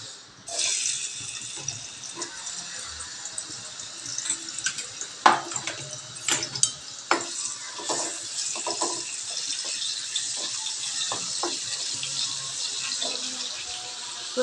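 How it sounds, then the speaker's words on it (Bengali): Potatoes coated in salt and turmeric fry in hot oil, giving a steady, fairly loud hiss and crackle throughout, with scattered sharper pops and light clinks along the way. "প্রথমে আমি মাংসের আলুগুলোকে ভেজে নিচ্ছি তেলে নুন হলুদ মেখে।"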